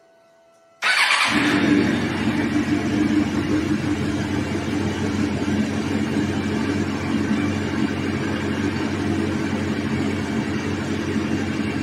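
A Suzuki GSXR 750 SRAD motorcycle with a fault starts after a short crank. It settles into a loud, steady, close idle that holds for the rest of the clip.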